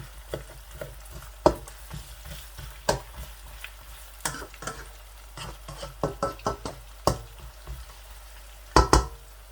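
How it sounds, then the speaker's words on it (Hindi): Onions cooking slowly over low heat under a covered pan, giving a soft background sizzle broken by sharp irregular ticks and knocks, some clustered in quick bursts, and no voices. "तकरीबन 5 मिनट तक मैं हल्की आंच पर ऐसे ही प्याज को पकाऊंगा"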